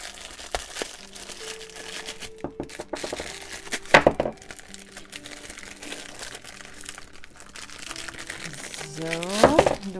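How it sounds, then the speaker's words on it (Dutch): Crinkly plastic packaging from washi tape rustles and crackles up close, with irregular crumpling bursts and brief sharp snaps, no talking. "Dan is het geritsel weer voorbij."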